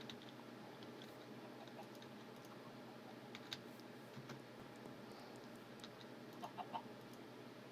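Chickens in Minecraft give soft, intermittent clucks and small ticking blips against a steady low background hum, with a few brief clicks near the end; no one speaks.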